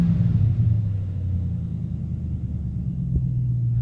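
A repaired Chevy Vortec engine idles smoothly with a steady low rumble, close and continuous, with no voices over it.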